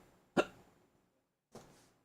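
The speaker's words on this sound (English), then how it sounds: "can't stop myself from hiccuping" Two sharp hiccups from a person, the first louder and abrupt, the second about a second later and softer, close to the microphone in a quiet room.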